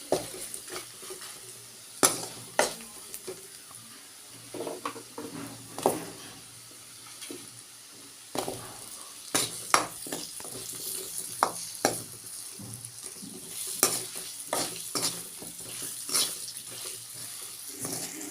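Potatoes and spices, including Kashmiri red chili powder, stirred in a hot pan: steady sizzling frying under repeated sharp scrapes and clacks of a spoon against the pan, with no talking.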